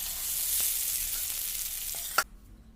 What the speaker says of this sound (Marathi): आता ही फोडणी चटणीवर घालायची